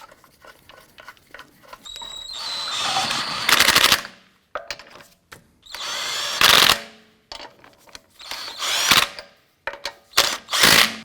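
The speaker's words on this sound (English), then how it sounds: "Get our lug nuts all started by hand first, and then we'll snug those down." Pneumatic impact wrench tightening lug nuts on a 2004-2008 Acura TL rear wheel, firing in several loud rattling bursts of one to two seconds each, separated by short pauses and small shop clatter.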